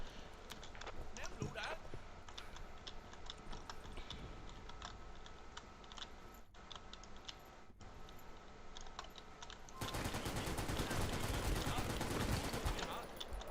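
In the Vietnam-era game Military Conflict: Vietnam, a DP machine gun fires rattling bursts, scattered at first, then a dense sustained volley near the end, with someone talking over much of it.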